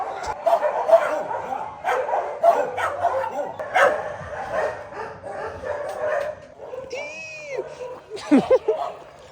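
Dogs bark and whimper excitedly, with people talking over them outdoors at a Costa Rica resort; the barks come in quick bursts, near and fairly loud.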